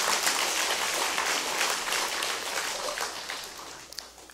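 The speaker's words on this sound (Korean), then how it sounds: "2층에 계신 분들에게도 감사의 박수를 한번 쳐주십시오." Audience applause at a Buddhist dharma assembly in a temple hall with a packed upper floor, a dense steady wash of many hands clapping that thins slightly toward the end.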